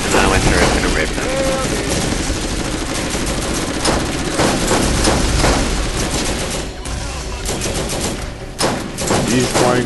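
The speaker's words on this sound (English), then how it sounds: "And now my turret's gonna rip them." Rapid automatic turret gunfire in the Borderlands video game, dense continuous bursts of shots blasting at enemies amid loud chaotic battle noise, with a voice talking over part of it.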